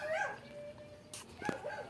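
A dog shut indoors near a garden greenhouse gives short yips and whimpering whines, two brief bursts close by with quiet gaps between them.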